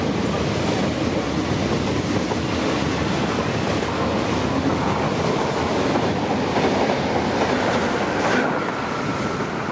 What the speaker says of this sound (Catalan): Un tren sin parada.